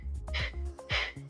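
Vigorous rhythmic breathing during a Pilates arm-pumping exercise: two sharp, forceful breath bursts close to the mic over a low steady hum, with no talking.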